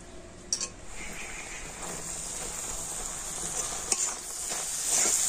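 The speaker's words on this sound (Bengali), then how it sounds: "আর এখন আমি গুড়ের নারকেল গুঁড়োটা খুব ভালোভাবে মিশিয়ে নেব।" Grated coconut being stirred into melted jaggery in a wok for roll puli pitha, a steady close sizzling scrape with a couple of sharp clinks of the utensil against the pan.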